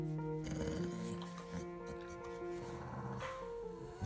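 A dog growls softly and steadily in a low rumble, with some whimpering tones mixed in, close by.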